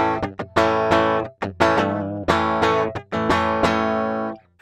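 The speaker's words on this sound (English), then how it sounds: "you can record the guitar player using a DI box, which will sound something like this." Dry electric guitar recorded straight through a DI box, with thin, clean plucked notes and short chords in a choppy, stop-start rhythm, close and alone.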